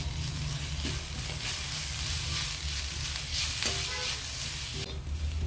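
Sautéed onions cook with ginger-garlic paste in a pan for a pork fry. A continuous close sizzle runs throughout, broken by repeated scraping stir strokes.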